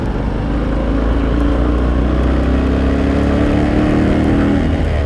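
Road traffic near sugar cane fields in Mario Briceño Iragorri: a continuous loud engine drone and tire roar that stays steady throughout, with no voices.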